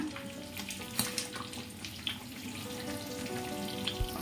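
Ghee for rice kesaribath sizzles and bubbles steadily in a pan, close and continuous, with a few small pops and clinks over the frying hiss.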